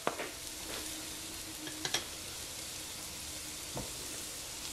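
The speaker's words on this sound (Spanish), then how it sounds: "Ya después de estar caliente vamos a agregar lo que es la cebolla." Red onion fries in about two teaspoons of hot oil in a pan, a soft, steady sizzle up close with a few light clicks of stirring.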